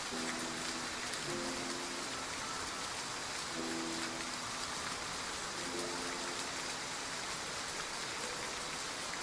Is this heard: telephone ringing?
no